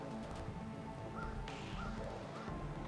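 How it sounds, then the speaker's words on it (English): Crows caw now and then at a forest campsite in Mark Twain National Forest, faint and distant over a steady low background rumble, with a few short calls spread across the stretch and no one speaking. "Crows are up, man."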